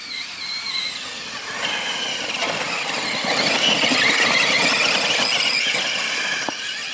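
A Traxxas Summit RC monster truck drives along a snowy trail, its electric motor whining in a high, steady squeal that rises and holds louder through the middle, heard close and alone without talk.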